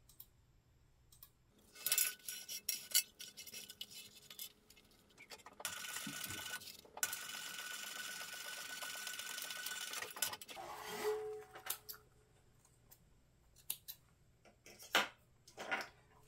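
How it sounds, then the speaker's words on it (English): A sewing machine stitching a seam on a crossbody bag, with bursts of rapid mechanical whirring and clicking separated by pauses and a longer sustained run in the middle, close up, no talk. "now we're going to stitch this together at a 3/8 inch seam allowance."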